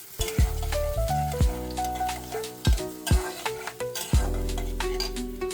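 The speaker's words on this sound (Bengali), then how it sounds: "প্রথমে আমি কড়াইটা বসিয়ে দিলাম চুলায়, দিয়ে দিলাম তেল আর দিয়ে দিলাম পেঁয়াজ" Onions sizzling in hot oil in a wok, heard as a steady close frying hiss over a background of sustained musical tones, with occasional clinks as the pan is stirred; no talking.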